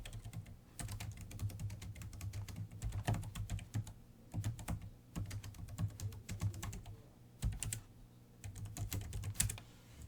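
Keys on a computer keyboard clatter in quick irregular bursts as a command is typed, close and fairly quiet, with brief pauses between runs of keystrokes.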